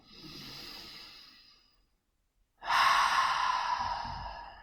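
Slow, deep breathing: a soft inhale through the nose, a short silent pause, then a long, louder open-mouthed exhale close to the listener. Nobody speaks.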